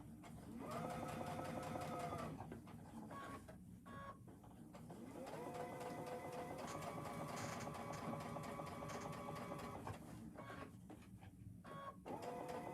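A sewing machine bastes an apron yoke in long, steady runs, a loud mechanical whir that stops briefly and starts again, with no talking.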